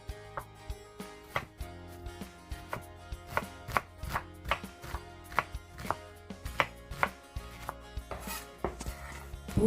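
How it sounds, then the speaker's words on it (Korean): Knife chopping halved onion finely on a board, a steady run of crisp, evenly spaced chops close up with no talking, as onion is minced for gimbap filling. "양파는 반으로 갈라서 작게 다져주시면 됩니다"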